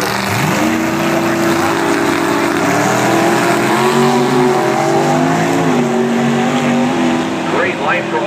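Dragster engines roar steadily through a drag strip elimination round, their loud droning pitch shifting as the cars run down the track, with an announcer's voice over the noise.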